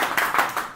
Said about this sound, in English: I expect a big round of applause from the people here.